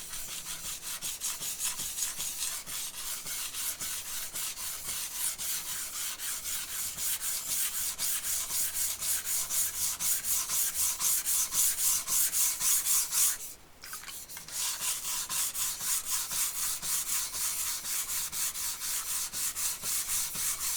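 A knife is worked on a whetstone with rapid, regular back-and-forth scraping strokes, close and continuous, broken by one short pause partway through before the rhythmic rasping resumes.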